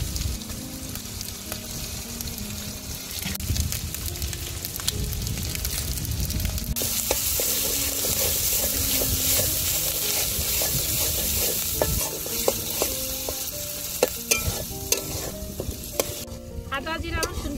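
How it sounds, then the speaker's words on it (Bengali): Ginger, cumin, garlic and onion fry in hot oil for a Bengali chicken curry, giving a steady sizzle with repeated scraping and clinking as a spoon stirs the pan up close. "আদা, জিরা, রসুন, পেঁয়াজ ভালোভাবে ভেজে নিচ্ছি।"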